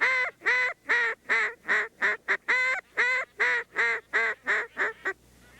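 A duck call mimics a young mallard hen with a rapid series of about a dozen loud, nasal quacks, several breaking into a squealing cry at the end of the note, in a quick uneven rhythm with no talk.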